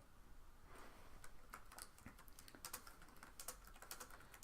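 Soft, irregular clicking of keys on a computer keyboard, steady typing heard close but quiet, with no talking.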